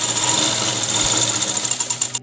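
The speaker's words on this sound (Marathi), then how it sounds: "तर आपण इथे पण आता शिलाई मारणार आहोत वरती" A sewing machine stitches the top seam of a small rabbit-eared baby bonnet, running steadily and loudly at close range with a fast regular needle rhythm, then stopping abruptly near the end.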